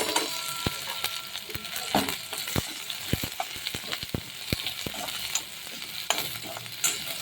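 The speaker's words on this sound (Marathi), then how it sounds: "चिरलेला कांदा चांगला तांबूस रंग येईपर्यंत परतवून घ्या" Chopped onion with green chillies and sliced garlic frying in a pan for methi zunka, a steady sizzle broken by repeated sharp clicks of stirring, close and moderately loud, with no voices.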